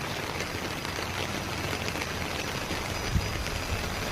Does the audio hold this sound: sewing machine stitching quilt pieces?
no